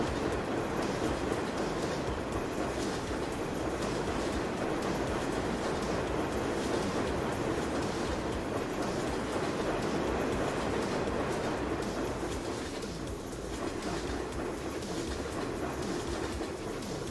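A game train in a Nebraska farming simulator rolls steadily past, a loud continuous rumble and rail clatter that fills the whole stretch without pause, with no talk over it.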